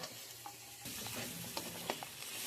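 Green peas and raisins sizzle in oil in a pan with turmeric, a soft close frying hiss broken by a few quick stirring scrapes over a couple of seconds.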